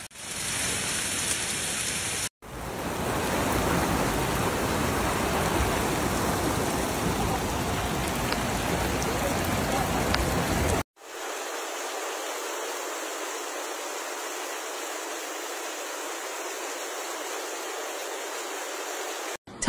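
Heavy storm rain pours down in Germany as a dense, steady hiss of water drumming on surfaces, broken into three abruptly cut sections, with no voices.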